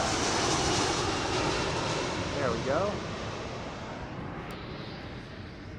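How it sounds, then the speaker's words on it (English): A fixed-wing airplane flies overhead near Logan Airport in Boston, a loud, broad engine roar that slowly fades as it passes, with a brief spoken remark partway through. "That is not exactly a common airplane at Logan."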